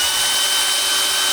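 A power drill whines steadily at close range, driving self-tapping deck screws into treehouse boards, a loud high-pitched continuous buzz with no talk.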